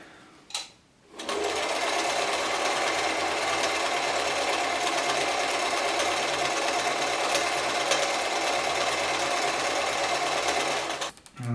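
A German-made Singer 720 sewing machine runs a zigzag stitch in one loud, steady, rapid whirring stretch, with a short start and stop at either end.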